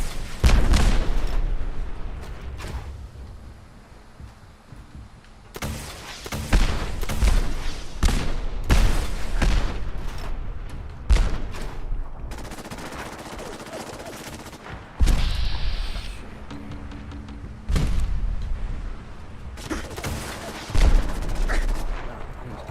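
Dense bursts of gunfire and booming explosions from a sentry bot battle in the video game Fallout 4 on PC, loud and repeated in rapid volleys with brief lulls between them.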